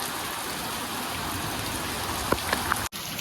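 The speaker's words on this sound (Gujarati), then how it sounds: "ફૂલ વરસાદ શરૂ થઈ ગયો જો" Dense, steady rainfall hissing continuously, with a few brief knocks near the end and no voices.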